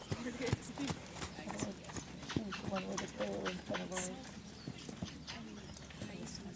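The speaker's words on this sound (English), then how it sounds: "One more time, we're going to pick up a lope" A horse lopes on its first ride, hooves clip-clopping in an uneven rolling rhythm at moderate distance, with a trainer's voice talking over the footfalls.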